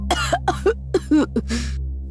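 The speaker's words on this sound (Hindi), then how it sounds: "तभी उसकी माँ जोर से खांसने लगी" An elderly mother coughs loudly and close, a fast series of harsh hacking bursts ending in a longer raspy throat-clearing cough, over a steady low hum.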